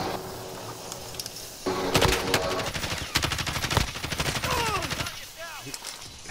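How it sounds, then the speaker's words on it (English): Rapid bursts of automatic gunfire from Call of Duty: Modern Warfare rattle close and loud over several seconds, with occasional single shots and game ambience, while a player talks. "You getting shot at."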